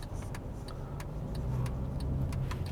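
A Mercedes car drives along Florida streets, its steady low engine and road rumble continuous and fairly close, with faint ticking clicks above and no talk over it.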